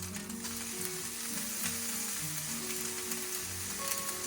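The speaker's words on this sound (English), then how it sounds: "a little bit of oil, and we're gonna add the green onion, which is chong, or the scallions" Green onions (scallions) sizzling in hot oil while fried rice is prepared in a Chinese cooking class, a steady close crackle with occasional stirring scrapes and no talking.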